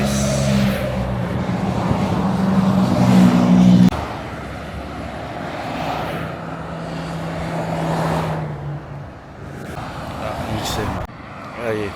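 A TVR Cerbera engine on the road after the Le Mans Classic, a loud droning rumble for the first few seconds that drops to a lower hum, then other traffic passing, with people talking nearby.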